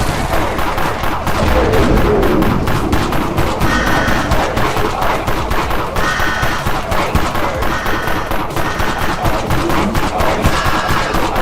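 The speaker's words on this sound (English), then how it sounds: "with the rate of fire increase, this is just spammable. It is just a better pistol to use to spam now" The Dawn Enforcer pistol in Dead Frontier fired in rapid succession, a loud, steady stream of sharp shots over a dense, noisy game background.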